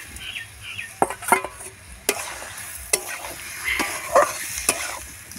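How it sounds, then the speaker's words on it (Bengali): Vegetables for a vegetarian spinach curry are tipped onto fried spices and stirred in a pan. A soft sizzle runs underneath sharp, irregular scrapes and knocks of the utensil against the pan. "এই মশলাগুলো ভাজা হলেও একটু কষিয়ে নিলাম, এবার সবজিগুলো দিলাম।"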